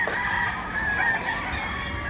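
Roosters crow at a busy Filipino chicken market, one drawn-out crow ringing out clearly over clucking and crowd murmur, near and loud.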